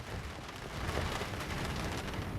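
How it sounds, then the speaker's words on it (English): Rain hits a roof and window in a video game, a steady soft hiss of drops that is faint and continuous with no voices. "Do you like the ASMR of the rain hitting the roof and the window and whatnot?"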